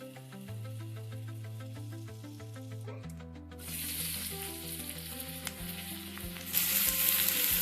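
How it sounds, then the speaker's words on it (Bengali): Vegetables fry in butter and vegetable oil, a steady close sizzle that grows brighter and louder partway through, with a low continuous hum running underneath and no talk. "এই যে সবজিগুলো সব বাটার আর সাদা তেলে ভেজে নিচ্ছি"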